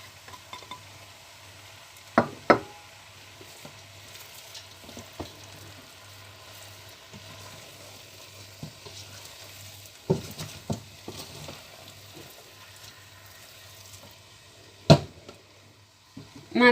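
Meat with onions and chopped herbs fries in a pan, a faint steady sizzle broken by a few sharp clatters and scrapes from stirring, with no voices.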